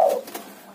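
A young spotted dove, a tekukur kept in a cage, gives a short, soft coo close by, loud at first and then tailing off in under a second.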